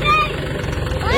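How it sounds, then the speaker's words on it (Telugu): A dozer tractor pushing soil to fill a new house plot rumbles with a steady mid-low engine drone, while a person talks over it. "డోజర్ ట్రాక్టర్ తో నెడుతున్నాడు మా అన్న"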